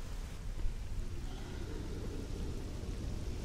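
Rain in the video game STALKER: Call of Pripyat falls as a steady hiss with a low rumbling undertone, constant and fairly close, with no talking.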